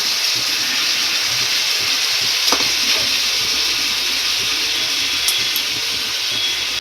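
Water with soaked tamarind and jaggery goes into a hot pan of Bhavnagar-style garlic potatoes and sets off a loud, steady sizzle. A hiss of steam runs through it, with a couple of faint clinks.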